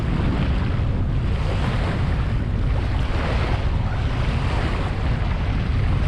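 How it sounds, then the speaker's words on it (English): Calm open ocean heard from a sailing yacht off the East Australian coast: a steady, close wash of waves and water against the hull, mixed with constant wind rush, no voices. "very, very calm ocean"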